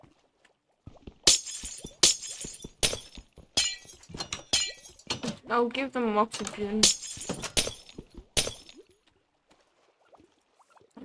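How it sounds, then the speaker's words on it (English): Glass blocks shattering in the Minecraft video game, several sharp crisp breaks in quick succession, close and loud, with someone talking over and between them. "Breaking the fucking glass."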